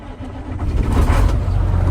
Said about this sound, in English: We will start these trucks. The key in the Volvo is in here